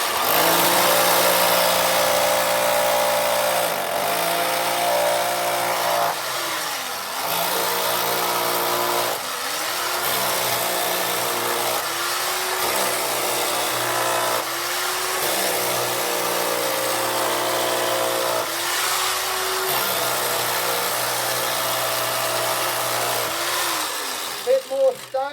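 A loud mechanical rock hammer drones continuously at a sapphire mine, its pitch dipping every few seconds as it bites into stone.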